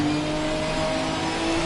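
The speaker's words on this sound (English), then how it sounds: "You hear the car locking up, doesn't like the drop" A Ginetta race car locking up its wheels in the racing game Assetto Corsa Competizione, giving a loud, steady tonal drone with engine noise throughout.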